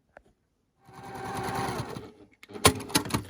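A sewing machine stitches a fabric seam on a pumpkin-shaped storage pod made with Vlieseline interfacing. It gives a close, steady whirring run of about a second, then a few short stop-start bursts, with no talk.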